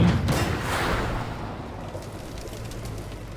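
A heavy PTL-02 tank destroyer cannon boom in a video game, with a rolling low rumble that slowly decays, followed by a lingering muffled tail; no voices.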